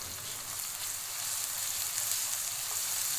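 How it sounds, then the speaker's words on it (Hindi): Ginger garlic paste frying in a pan for a beef keema stew: a steady, soft, hissing sizzle with faint crackles, continuous and fairly quiet, with no voices. "अदरक लहसुन का पेस्ट 2 मिनट तक फ्राई करना है कि इसकी स्मेल निकल जाए।"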